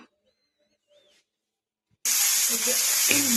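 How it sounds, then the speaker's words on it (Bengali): Bitter gourd slices dropped into hot oil, erupting into a loud, steady broadband sizzle that begins abruptly after a near-silent pause and continues close and constant to the end. "করলা ভাজা বসিয়ে দিচ্ছি"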